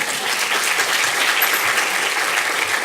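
Full, sustained applause from a large business forum audience during a speech by the Ukrainian president, a dense even roar of clapping with no voices over it.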